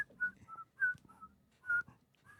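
A person whistles a Steamboat Willie tune in short, bright phrases with brief pauses between them, close and fairly soft, with no other sounds.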